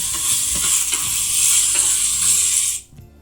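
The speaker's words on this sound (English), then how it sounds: "Let's saute our onions" Onions sautéing in oil in a pan after bacon has been cooked out, a steady loud sizzle and crackle with occasional stirring scrapes, cutting off abruptly near the end.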